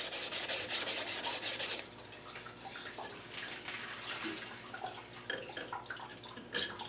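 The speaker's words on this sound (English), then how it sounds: "that shaft took a little bit of polishing up" Rapid rhythmic rubbing of a metal gearbox shaft being polished, from a Land Rover LT230 transfer box, a bright scraping burst at first, then quieter intermittent rubbing and small clinks.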